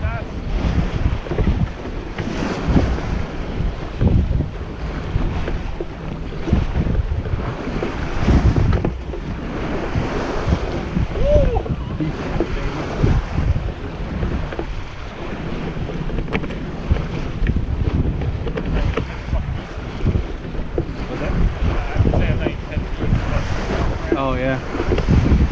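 An O'Day 23 sailboat moving fast through waves, with loud gusting wind buffeting the microphone and water rushing and splashing against the hull throughout, under occasional voices.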